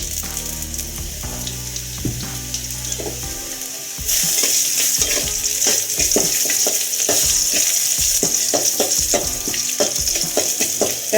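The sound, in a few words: onions frying and being stirred in a pan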